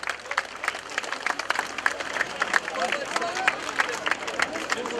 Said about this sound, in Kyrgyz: Баары тосмонун алынышын кызуу кол чабуулар менен күтүп турушту